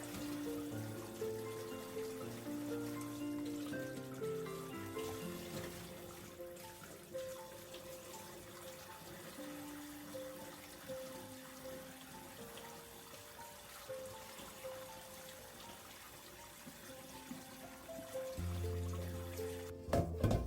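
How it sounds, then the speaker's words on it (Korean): Blanched beef bones for bone soup rinsed under a running kitchen tap, with water pouring and splashing steadily at low volume as the bones are handled, and brief thuds near the end. "데친 사골과 재료를 흐르는 물에 깨끗이 씻어주고 기름기는 떼주세요"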